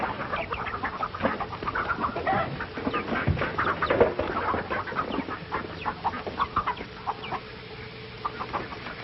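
Chickens at a chicken house cluck busily and continuously, several birds overlapping in a dense, close chorus of short clucks with no voices.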